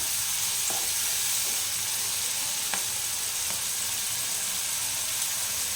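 Shrimp coated in turmeric and salt fry in hot oil with a continuous, even sizzle, broken only by a few faint spoon scrapes.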